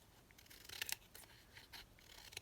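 Scissors snip around the edge of a paper collage piece, a handful of quiet, crisp cuts in irregular rhythm close to the microphone.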